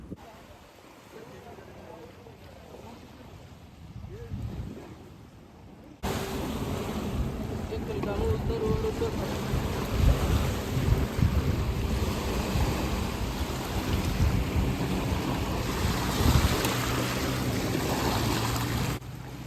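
Sea waves wash in and pull back at a boat jetty in Khorfakkan. The surf turns into a loud, continuous rushing roar after a quieter opening few seconds, with some wind buffeting the microphone.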